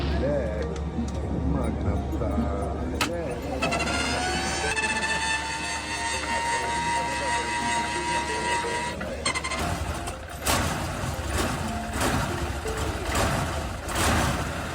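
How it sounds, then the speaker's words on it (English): A Napier Deltic aircraft engine fitted to a vintage fire truck cranks and starts, with mechanical clatter and whining tones building into a rough, loud running roar while someone speaks over it. "Starting Brutus is a physical battle. Mechanical components clatter violently before the exposed exhaust pipes spit out meter-long flames under pressure."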